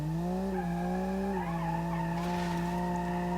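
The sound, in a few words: car tire burnout in BeamNG.drive video game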